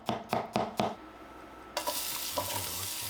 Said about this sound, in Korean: 이 기름에다가 마늘 있으니까 마늘을 한 3개 정도만 썰어서 편 썰어서 넣어보겠습니다